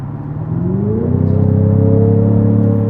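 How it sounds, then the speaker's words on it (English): Jaguar F-Type four-cylinder in dynamic mode with its exhaust open, accelerating hard; a loud, steady engine drone climbs in pitch as the revs rise, close up and with no talk. "With the dynamic mode and the exhaust cut and everything, the sound is really, really kind of fun."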